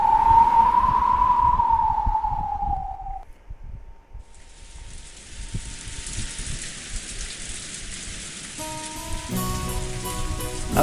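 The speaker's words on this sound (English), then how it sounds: "Outside the rain had started to pour down hard." Heavy rain pours down steadily as a broadband wash, with a whistling tone fading out early and faint chiming notes near the end, set in a visual novel scene.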